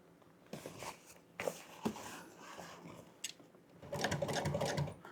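A sewing machine stitching a vinyl car top in an upholstery shop runs in a few short bursts with pauses between, then a longer steady run near the end, fairly close and moderately loud.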